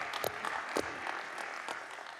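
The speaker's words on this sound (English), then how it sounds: "Applause for coming up." An audience at a university convocation applauds, a fairly faint, steady patter of clapping with a few sharper claps standing out over the room.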